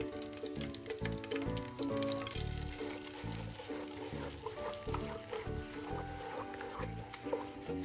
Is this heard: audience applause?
no